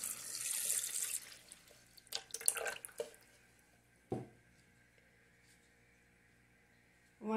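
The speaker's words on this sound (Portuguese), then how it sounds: "Vou estar colocando 500 ml de água, ou de leite" Water runs from a tap in a kitchen while 500 ml is measured out for a sweet potato pudding, a faint splashing stream that stops, followed by a few quiet knocks and drips.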